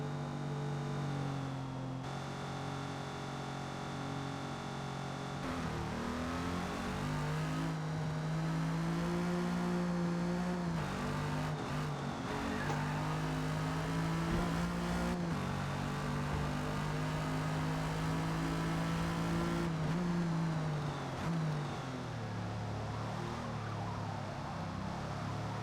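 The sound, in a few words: 1956 Jaguar D-Type accelerating in Forza Motorsport video game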